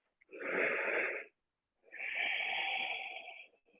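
Two long, deep yoga breaths, close and soft, each a rushing airy inhale or exhale of about a second and a half separated by a brief pause, heard alone without talk.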